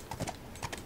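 Horse hooves clip-clopping in the video game The Last of Us, a short run of quick paired hoofbeats at a walking pace, close and fairly faint.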